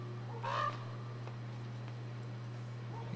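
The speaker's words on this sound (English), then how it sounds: "There's a big old crow or rook up there." A single harsh caw from a big crow or rook perched overhead in Talkeetna, Alaska, rings out once, moderately close, over a steady low electrical hum and faint background ticking.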